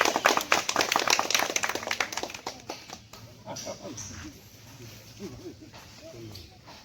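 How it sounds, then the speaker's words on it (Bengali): Schoolchildren in a classroom clap together in a quick burst of rapid, dense claps that fade out after a few seconds, followed by quieter talk. "গুড, হাততালি।"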